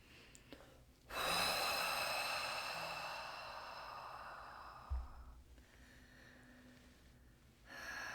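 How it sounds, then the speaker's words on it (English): Slow, drawn-out breathing during a guided breathing exercise: a long airy exhale swells in and gradually tapers over several seconds, close and fairly quiet, with a brief puff midway and a second softer breath near the end. "pushing it out with each breath, with each exhale."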